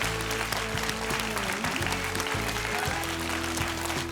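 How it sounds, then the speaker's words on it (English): Audience applause for two debate teams at the close of an English-language debate final, a dense, steady wash of clapping under a music bed with sustained tones throughout. "one more round of applause for both teams tonight"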